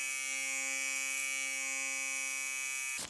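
Manscaped Chairman Pro precision trimmer blade running steadily close to the skin, a high, even electric buzz held for about three seconds before cutting off abruptly.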